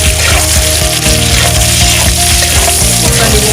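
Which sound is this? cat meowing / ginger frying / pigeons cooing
ginger frying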